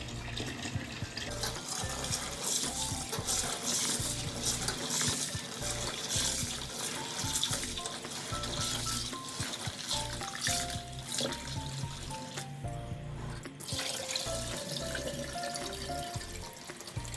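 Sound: washing sorghum grains in water

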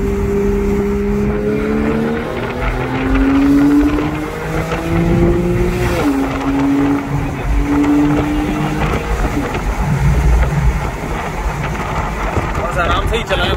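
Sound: sports car driving on road

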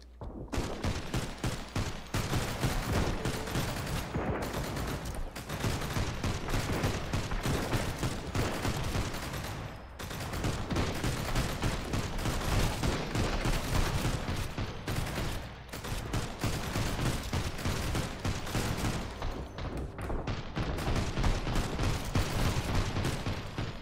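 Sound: automatic turrets firing in the video game Sunkenland

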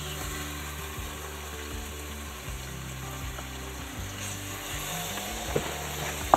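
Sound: food frying in a pan

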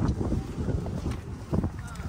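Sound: strong wind

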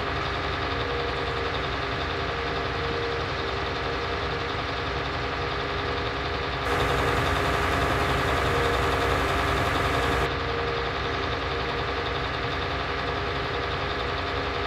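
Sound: tractor engine idling

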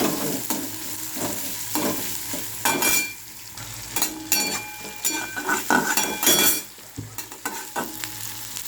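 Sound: onions frying and being stirred in a pan

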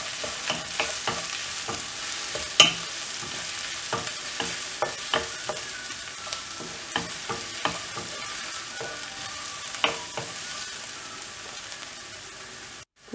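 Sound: frying garlic with onion in pan

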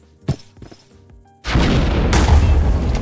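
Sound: explosion blowing up a wall in Minecraft video game

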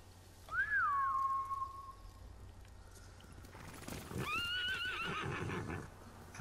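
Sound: samurai horses neighing, from video game Ghost of Tsushima

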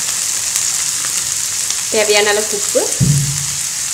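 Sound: sautéing onion, chilli and broad beans in oil

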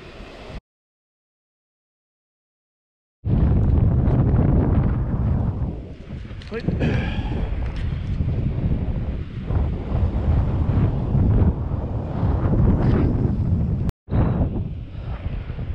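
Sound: strong wind blowing on microphone

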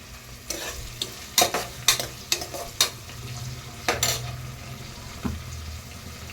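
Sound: onions frying in a pan

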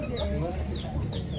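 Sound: chicken clucking

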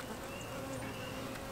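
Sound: honey bees buzzing at a hive being smoked

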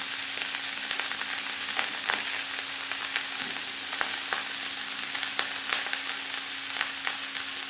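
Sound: fried rice cooking in a pan

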